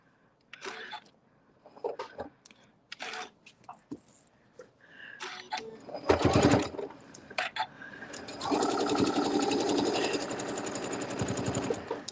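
Sewing machine top stitching a fabric table topper, in bursts of mechanical whirring after handling noises, with a longer steady run near the end.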